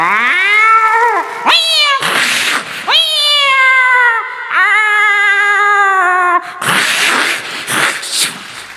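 A stage performer vocally imitates two cats fighting over a fish head, loud drawn-out meows and yowling caterwauls trading back and forth with sharp hissing spits between them.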